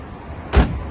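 The central locking on a 1994 Fiat Fiorino engages with a single short, loud mechanical thunk against a quiet background, while the windows close.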